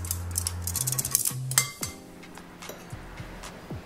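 Cucumber noodle salad being mixed in a bowl, a quick series of clinks and scrapes from utensils against the bowl that fades into quieter handling.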